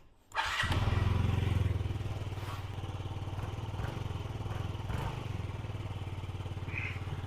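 Yamaha C3 moped engine starts with a sharp catch and settles into a steady, fast putter at idle, close and loud, running on Klotz and Liqui Moly oil.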